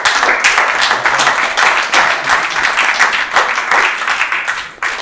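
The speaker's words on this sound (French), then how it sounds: "On peut l'applaudir, hein, c'est très beau." Audience applause for an artist presenting her artwork of the town's coat of arms at a town council meeting, dense sustained clapping from a room of people that carries on without a break for the whole stretch.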